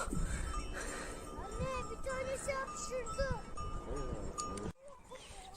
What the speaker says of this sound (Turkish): Şu keçilerin boynundaki çıngırak sesi bile ne kadar titreşimini yükseltiyor insanın